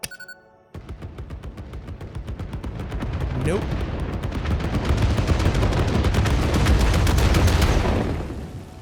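Explosives detonating in the video game Satisfactory, a dense, sustained barrage of loud blasts and crackling booms rolling for several seconds after a brief quiet start, with a short spoken word at the outset.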